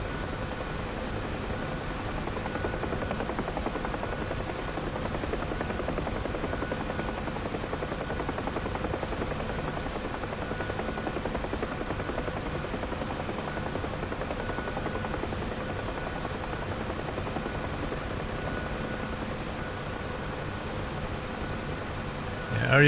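A helicopter in the DCS World flight simulator gives off a steady, continuous rotor and engine drone that holds at an even level throughout.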